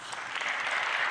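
A brief burst of faint, steady applause rises from the audience in a hall at a national youth assembly in Yerevan.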